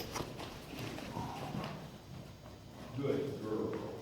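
A horse's hooves clip-clop on the ground while it is being saddled for the first time, a few soft uneven thuds mixed with rustling and shifting, with a person talking over them.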